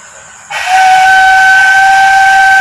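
A breathy bansuri flute tone starts abruptly after a soft hiss and holds a steady, loud, airy note to the end.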